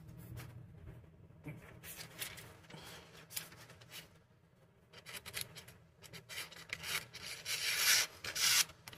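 A Manganas Steel Caimano knife slices through cardboard, making repeated scraping, rasping cuts that grow louder and denser toward the end, heard close up.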